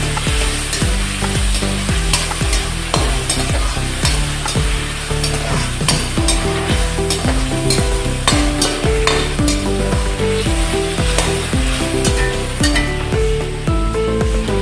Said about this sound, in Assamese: বিলাহীকেইটা তেলত দি ফ্ৰাই কৰি দিম